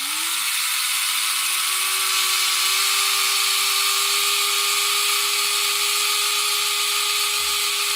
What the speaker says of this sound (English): I love that little happy noise of the handy drill.